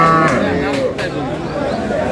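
Sahiwal cows and calves at a busy rural cattle market, with mooing and lowing mixed into steady crowd chatter and voices close by.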